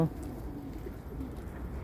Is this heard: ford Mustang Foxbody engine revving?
no